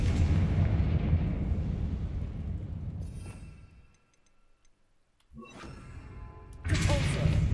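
The Confringo spell goes off in a video game as a loud, deep blast that rumbles and fades over about four seconds. A short crackle follows, then a second rumbling burst.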